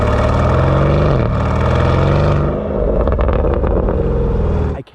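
A 2024 Porsche Cayenne Turbo Coupe hybrid with a 729 hp V8 and center exit exhaust, heard as a loud, deep exhaust drone that shifts in pitch, then breaks into rougher burbling pulses before dropping away sharply.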